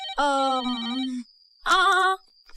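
A telephone rings twice in bright electronic bursts, the first longer than the second, with a quiet pause between rings.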